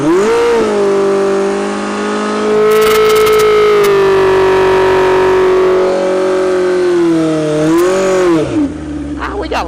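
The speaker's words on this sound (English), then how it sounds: "Can't go for a ride on a 7-second bike without making a run." A 7-second street-legal drag motorcycle accelerates hard nearby, its engine note climbing steadily in pitch and then dipping through a gear change before rising again, loud and continuous.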